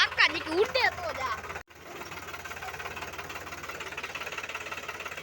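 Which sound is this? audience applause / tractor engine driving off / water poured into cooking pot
tractor engine driving off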